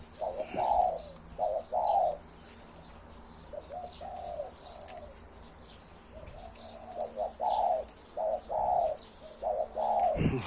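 A hybrid spotted dove with a deep, big voice coos in repeated short phrases, a steady rhythmic series of soft, resonant calls close by, with faint chirps from other birds in the background.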